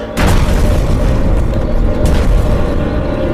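A loud, deep explosion from a deep drilling site bursts in and leaves a heavy rumbling roar that persists without fading, with a second crack partway through.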